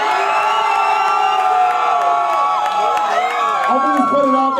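Loud battle rap crowd at a For MCs By MCs Battle League event, steady cheering, whooping and shouting that fills the whole stretch without a break.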